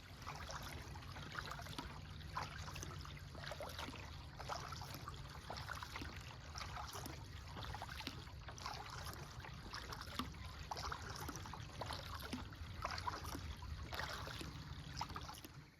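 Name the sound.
kayak paddling on water at Toledo Bend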